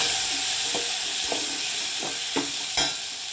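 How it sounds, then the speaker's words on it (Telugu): Chopped tomato, curry leaves and green chilli sizzle in hot tempering oil, a continuous close hiss broken by several distinct stirring scrapes, the last few louder. "ఇలా పోపు వేగాక ఇందులో టమాటా, curry leaves, green chilli cut చేసి వేస్తాను."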